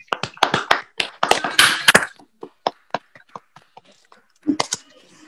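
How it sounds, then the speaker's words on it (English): A handful of people clapping in a church to welcome a guest elder, sharp separate claps loud at first, then thinning to sparse scattered claps, with a brief voice near the end. "Let us welcome him with a round of applause."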